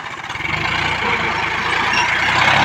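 A John Deere 5105 40 HP tractor pulling a cultivator through a field, its diesel engine holding a loud, steady throbbing drone close by without dropping revs.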